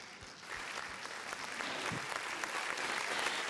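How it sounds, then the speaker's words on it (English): Applause at an international halal economy conference, scattered claps at first that quickly swell into a steady crowd ovation at moderate volume, with no talking. "Give big applause hand."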